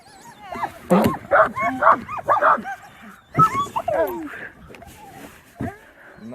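Sled dogs bark, yip and whimper excitedly in quick, irregular bursts at close range, with lively outdoor commotion around them.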